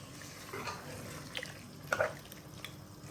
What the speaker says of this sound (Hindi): और अभी मैं इसके अंदर डालूँगी तकरीबन 1 कप के करीब पानी।